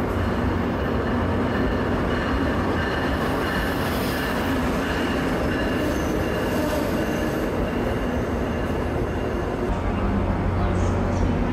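A Northeast Regional intercity train arrives at Philadelphia's 30th Street Station with a loud, continuous rolling rumble, wheel noise and faint high squeals that run the whole clip.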